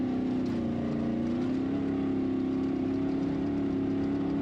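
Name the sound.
Ultra4 off-road race vehicles going by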